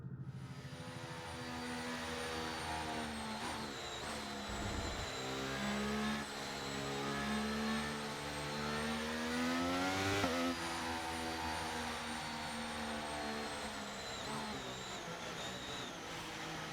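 Formula 1 cars idle and rev on the starting grid at Silverstone in the F1 23 video game, a continuous layered engine drone with rising and falling pitch, moderately quiet and steady throughout.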